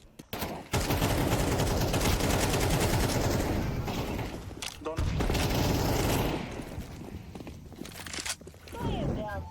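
AK rifles fire in the video game Counter-Strike 2: long, loud, close bursts of automatic fire broken by short pauses, with footsteps and game noise mixed in and voices talking over it.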